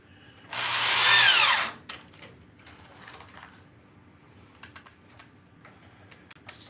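A power drill drives a couple of screws into a comic book display, one loud close burst of whining motor lasting about a second, followed by quiet scattered clicks and handling noises.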